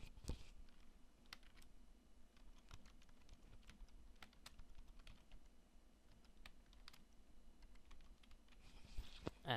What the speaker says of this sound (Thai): เดี๋ยวผมจะพิมพ์คำว่า Microsoft Office Specialist